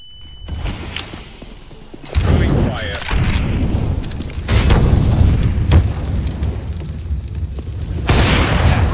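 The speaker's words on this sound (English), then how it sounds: "Throwing smoke. Deploying flashbang." Flashbang and smoke grenade thrown in a tactical shooter game: a hissing release followed by heavy booming bursts and rumbling blasts, loud and close, with a voice talking over parts of it.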